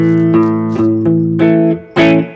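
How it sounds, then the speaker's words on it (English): Electric guitar chords played through a Strymon Iridium amp and cab simulator pedal, with several loud, sustained distorted strums ringing one after another and no voices. "I wanted to show the audience the Strymon Iridium, the few different cab sims, like just whack a few chords, show a few tones of this pedal."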